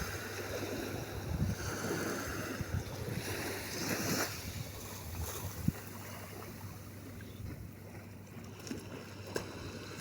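Sea waves washing onto a beach on the Gulf of Oman in March, a steady broadband wash of surf with some wind noise across the microphone, no voices.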